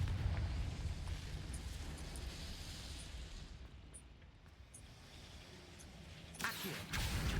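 Confringo spell blast in Hogwarts Legacy, heard as a deep rumbling explosion whose low roar fades over several seconds, with a sharper burst near the end.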